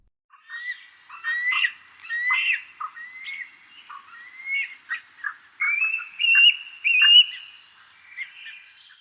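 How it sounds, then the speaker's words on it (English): A bald eagle calls in a series of high, thin chirping and squealing notes, repeated in quick bursts with brief gaps, clear and fairly close. "bald eagle,"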